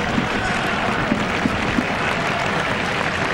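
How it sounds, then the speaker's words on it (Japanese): Stadium crowd applauding as an 18-year-old Japan youth player is substituted off during a match against Nigeria: a steady, dense wash of clapping with a few sharper claps standing out, continuous throughout. "拍手に包まれてこの表情で今回の遠征メンバー中最年少18歳香川真司ベンチに退きます"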